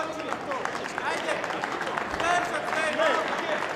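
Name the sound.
crowd cheering and applauding at a judo contest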